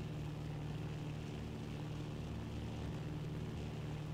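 Steady, even droning of a propeller airplane engine in the video game Battlefield 1942, a continuous faint hum holding level throughout with no talk over it.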